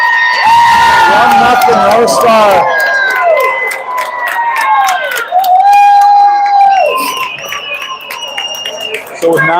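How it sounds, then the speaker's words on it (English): A hockey crowd roars loudly after a goal in an under-18 game between NCA and St Andrews College, with shouts, whoops and whistle-like cries filling the arena. A commentator talks over the sustained cheering. "Crowd's going nuts."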